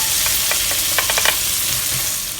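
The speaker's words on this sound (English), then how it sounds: "Now we'll fry this at medium to low heat." Chopped bird's-eye chilies and shallots frying in a pan over medium-low heat, a dense steady sizzle broken by a few quick clicks of stirring in the first half; no one speaks.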